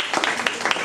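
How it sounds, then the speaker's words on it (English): Brief burst of audience applause for the producer of a fashion show, a short patch of scattered claps at moderate level with no voices over it. "Let's give him a round of applause."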